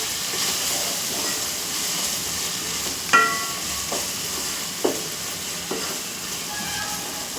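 Chicken masala mixture with salt and chili powder cooking in a pan, a soft continuous sizzle with a few distinct spoon scrapes and clinks against the pan, no speech.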